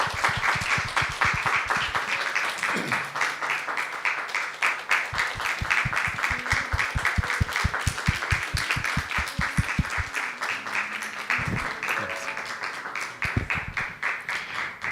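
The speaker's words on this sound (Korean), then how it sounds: "큰 박수 부탁드리겠습니다." A church congregation at a young adults' worship service gives sustained applause, a thick wash of clapping that often falls into a fast rhythmic beat and carries on for about fifteen seconds.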